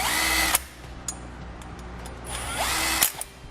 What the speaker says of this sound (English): We'll slide our bracket in place and tighten the hardware back down.